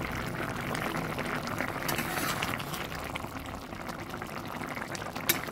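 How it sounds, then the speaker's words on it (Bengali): Tengra fish curry with eggplant and potato bubbles in a pan, a steady close simmer of popping bubbles with a sharp clink near the end. "বেগুনটা আর একটু সিদ্ধ হবে।"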